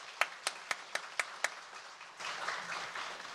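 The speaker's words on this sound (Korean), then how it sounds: "우리 축복의 박수 하도록 하겠습니다." A church congregation at a Christmas service claps: six sharp, evenly spaced single claps, then broad, steady applause from the whole room that carries to the end.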